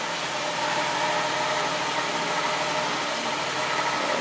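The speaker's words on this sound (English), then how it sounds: "Our compressor's cycling. I'm running here just for a little bit." A car engine runs steadily at idle while the A/C compressor cycles, giving a continuous broadband hum with a faint rhythmic vibration throughout.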